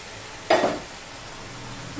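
Two fish heads drop into a hot pan for a Bengali pui saak dish, giving one sudden loud sizzling burst that fades within a quarter second back to a low steady background hiss.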